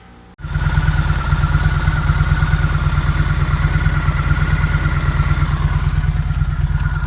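A 2003 Honda Shadow VT750DCB V-twin motorcycle fires up after a jump start and then runs at a steady, loud, rumbling idle close by, with no talking.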